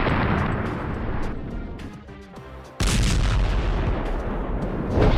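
Loud, roaring blasts fill the air, drop briefly into a quieter rumble, then a sudden heavy explosion destroying a bulldozer bursts back in at full force.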